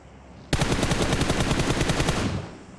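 Sustained machine gun fire in PUBG Mobile, a loud continuous automatic burst lasting about two seconds that starts abruptly and then tapers off, with no talking.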